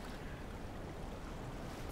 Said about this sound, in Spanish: ¿Se oye el mar? Sí, claro, porque estoy en un barco, soy pescador.